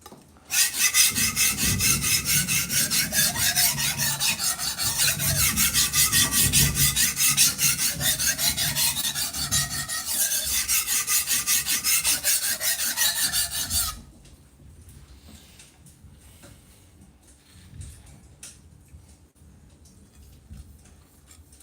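A soft steel straight razor is stroked rapidly and steadily across a sharpening stone, a dense rhythmic rasping that runs loud for about fourteen seconds, then gives way to faint, sparse scraping and ticks.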